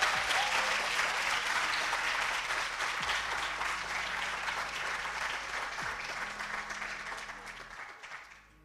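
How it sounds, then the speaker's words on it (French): Sustained audience applause at an awards ceremony, many hands clapping in a dense wash that slowly fades out toward the end. "On applaudit, s'il vous plaît."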